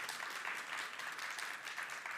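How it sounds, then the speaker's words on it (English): Conference attendees at Devcon SEA applaud a pair of presenters, a faint, steady patter of clapping heard from some distance with no voices on top. "Please, some round of applause for them."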